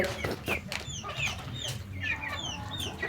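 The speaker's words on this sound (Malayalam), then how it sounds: "ഞാൻ ഈ കോഴിയുടെ വീഡിയോ ആയിട്ടാണ് വന്നിട്ടുള്ളത് ബ്ലാക്ക് ആൻഡ് വൈറ്റ് പുള്ളിക്കോഴികൾ" Black-and-white spotted Fayoumi and Brahma chickens kept for sale cluck and call repeatedly at close range, several birds overlapping in a busy, continuous flock chatter.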